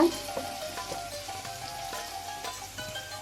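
Red chilli powder and turmeric powder sizzle and crackle in hot oil in a pan, a steady close frying hiss with small popping bursts throughout and no voices.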